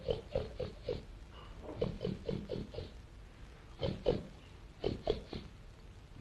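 A person imitates a pig with a run of short, nasal grunting oinks in irregular bursts, some clustered in quick pairs and triplets, fairly quiet and close, with brief pauses between groups.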